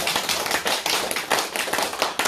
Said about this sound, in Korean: 다시 용기 내서 더 열심히 하시러 박수 한번 합시다.